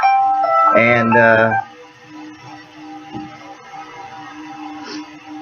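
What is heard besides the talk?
phone alarm going off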